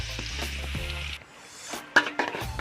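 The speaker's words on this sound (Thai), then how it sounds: "ผัดให้หอมนะครับ" Chili and coarsely blended garlic hit hot oil in a wok, giving a steady loud sizzle for about a second, then quieter crackling with a few sharp scraping clinks of the spatula as the mix is stir-fried.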